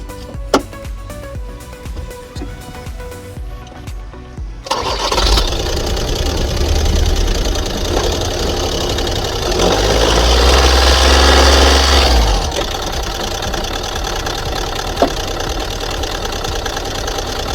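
A 2016 Ford Transit mk8 diesel engine cranks and fires up, settling into a steady, loud idle with a low rumble that swells for a few seconds, then drops to a quieter, even running note.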